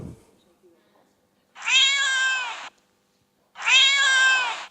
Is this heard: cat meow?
yes